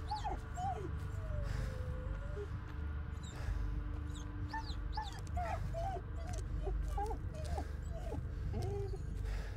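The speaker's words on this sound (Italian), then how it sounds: "Il cane morente." A dying dog whimpers and whines repeatedly, with short high yelps over a steady low rumble in the background.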